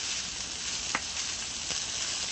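Butter melting in a hot pan before skirt steak goes in, a steady dense sizzle heard up close and alone, with two faint taps against the pan.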